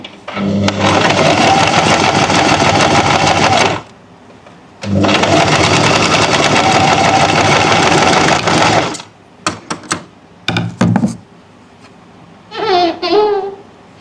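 A sewing machine stitches a neckline in two long, loud runs of rapid needle clatter separated by a pause, then several short bursts and a brief rattling stop near the end.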